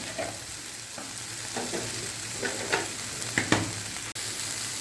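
Onions and tomatoes for a tomato kurma sizzle softly in a pan over low heat while a utensil scrapes and taps as it stirs, a few light clinks punctuating the steady frying hiss.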